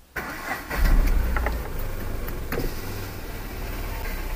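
Tata Nano car engine cranking and catching after a click, then settling into a steady close idle with a few faint clicks and rattles over it.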